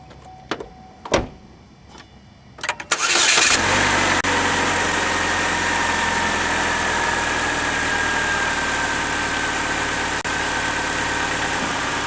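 A Chevy HHR's engine cranks briefly after a few clicks, then catches and settles into a loud, steady idle that runs on unbroken, close to the car with no talk.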